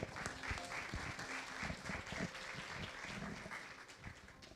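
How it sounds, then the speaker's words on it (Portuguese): Church congregation applauding at a Sunday conference service, a steady dense wash of many hands clapping that holds evenly for the whole stretch, with faint voices mixed underneath. "Quantos podem aplaudir ao Senhor por esta linda palavra?"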